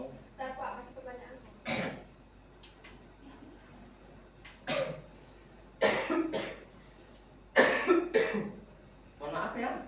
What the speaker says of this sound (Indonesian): Bapak batuk-batuk ini.